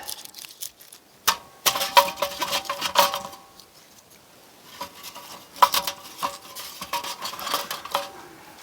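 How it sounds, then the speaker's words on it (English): Bigger pieces of firewood are set into the bottom of a metal tent stove, making a close series of clanks, clinks and wooden knocks in two busy bursts separated by a short pause. "I'm gonna set a few of these bigger pieces in the bottom of the stove just to create a base"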